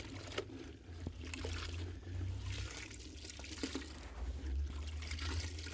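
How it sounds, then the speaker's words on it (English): A dirty sponge being rinsed and squeezed in a bucket of water while cleaning smudges off a concrete block wall, giving close, steady sloshing and trickling with a few small splashes throughout. "give it a good rinse and go back at it again"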